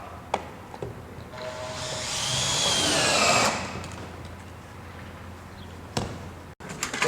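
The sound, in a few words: power drill fastening metal roof head wall flashing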